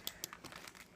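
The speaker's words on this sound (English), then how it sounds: "I take the secret weapon, the plastic bag, and I wrap it around my finger real tight" A plastic bag crinkles as it is wrapped tightly around a finger, giving a quick run of faint, close crackling rustles.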